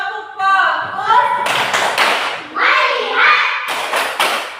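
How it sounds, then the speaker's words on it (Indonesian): Schoolchildren in a classroom perform a rhythmic focus clap led by their teacher: a few sharp bursts of clapping in quick clusters, mixed with the voices of the teacher and the children chanting along. "sekarang kita tepuk fokus dulu ya. Ayo, tepuk fokus."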